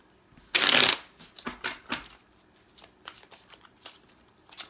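Tarot cards riffle in one loud, close shuffle, followed by a series of soft, separate flicks and slaps as single cards are drawn and laid down, with no talking.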